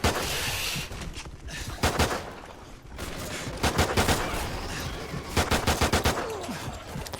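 Gunfire in the video game Call of Duty, including pistol shots, heard as repeated sharp bursts and single shots over a constant loud backdrop of game noise.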